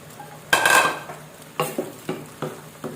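Fresh okra tipped into a hot pan for a cooling-style gravy noodle dish, landing with a loud clattering burst and short sizzle, then several sharp scraping stirs of a utensil against the pan at a steady pace.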